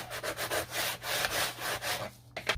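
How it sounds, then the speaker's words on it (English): Paper stuck down for a mini album is burnished with quick, rhythmic rubbing strokes, close up and fairly quiet, with about eight back-and-forth passes. "And burnish it a little bit."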